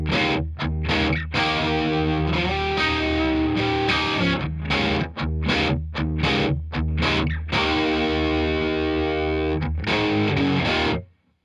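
Distorted electric guitar fed through a delay pedal, playing a continuous loud riff of chopped chords and sustained notes with repeating echoes trailing each phrase, cutting off abruptly at the end.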